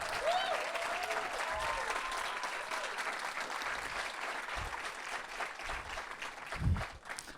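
A church congregation applauds at a baptism service, a sustained, fairly even clapping crowd heard from within the room, with brief thumps and a few faint voices mixed in.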